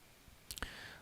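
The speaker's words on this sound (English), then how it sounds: "I'm just gonna go ahead and type in npm I." A computer keyboard types a short command, heard as a few quick, faint clicks close together, with no voice over them.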